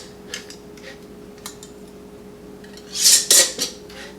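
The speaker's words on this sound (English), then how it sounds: "And then our rings, we're going to make fingertip tight." Metal screw bands twisted fingertip tight onto canning jar lids over jars of home-canned chili beans, a short cluster of close scraping, clinking rubs rising briefly near the end after faint scattered ticks.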